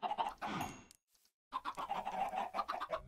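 Chickens in a video game cluck in quick, bursty calls, close and fairly loud, with a short silent gap partway through before the clucking resumes.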